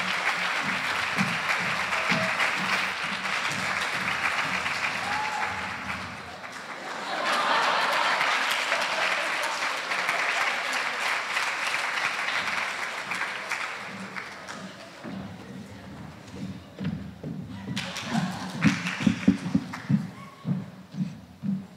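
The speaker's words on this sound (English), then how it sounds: "Let's have another round of applause for Mr." A graduation ceremony audience applauds a school official, sustained clapping filling a large hall with a brief lull and a few louder sharp claps and taps near the end.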